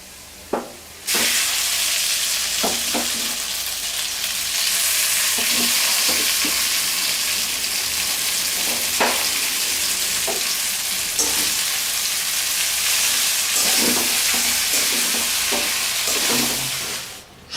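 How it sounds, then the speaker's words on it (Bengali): Khichuri tempered with hot ghee bursts into a loud, steady sizzle right after the ghee goes in, with scattered clinks and scrapes of stirring throughout. "আমি এর মধ্যে এখন খিচুড়িগুলাকে বাগার দিব"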